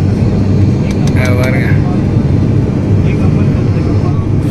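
Steady broadband drone of an airplane cabin in flight on a trip toward Goa, filling the whole clip, with a person briefly talking over it.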